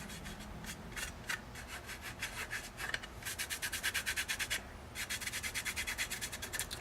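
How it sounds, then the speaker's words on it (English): Brush rubbing a Citadel Coelia Greenshade wash onto an HO scale plastic boxcar model, quick close scratchy strokes in rhythmic bursts, faster and more regular in the second half. "Just rub it around."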